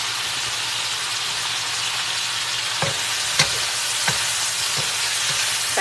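Thin slices of Cajun pork stir fry in a pan with a steady, close sizzle, broken by a few sharp clacks and scrapes of a utensil against the pan, no voices.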